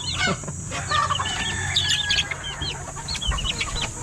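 Chickens and chicks cluck and chatter nearby, with scattered chirps and squawks overlapping in a busy farmyard ambience.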